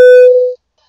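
A single telephone busy-signal tone heard while placing a call, a loud steady beep lasting about half a second, then silence.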